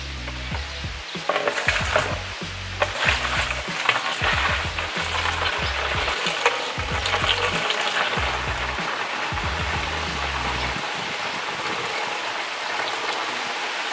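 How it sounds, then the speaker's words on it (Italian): Nettle macerate is poured from a can through a sieve into another can, giving splashing, trickling liquid with intermittent sloshing bursts and a lighter steady trickle toward the end. "versare il contenuto."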